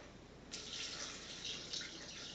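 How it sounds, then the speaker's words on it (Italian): Water pours steadily from a tap or jug into a cooking pot for a diet porcini mushroom cream soup, a continuous broadband splashing that starts abruptly and runs on fairly loud with no talk. "Quindi noi invece dell'olio ci aggiungiamo 700 g di acqua."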